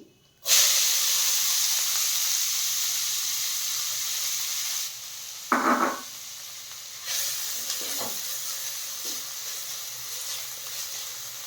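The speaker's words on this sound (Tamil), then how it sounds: "நம்ம கட் பண்ணி வச்சுருந்த வெங்காயத்தை சேர்த்து வதக்கலாம்" Onions sizzle steadily in hot oil for a paneer gravy, a loud continuous frying hiss broken by a few soft stirring scrapes.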